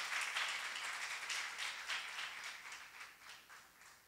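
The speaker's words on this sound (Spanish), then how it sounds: "denle un aplauso al Señor" A church congregation claps for the Lord, a soft, distant patter of many hands sustained throughout and slowly thinning out.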